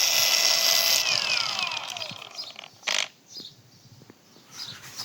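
A Worcraft CAG-S20LiBS-125 cordless angle grinder spins at its lowest speed with a high whine that winds down over a couple of seconds, followed by faint clicks and handling noises.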